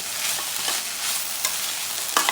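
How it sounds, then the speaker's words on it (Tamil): Flat beans poriyal with grated coconut is stirred in a pan over a constant hissy sizzle, with a few light scrapes and taps of the spoon scattered through. "இப்போ நல்லா பிரட்டி விட்டுறலாம் தேங்காய் பூ போட்டு"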